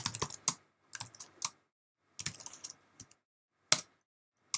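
Someone types code on a computer keyboard in short irregular bursts of close, crisp key clicks, with silent pauses between the runs.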